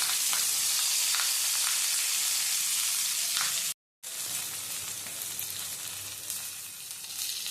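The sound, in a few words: prawn paturi parcels sizzling on a griddle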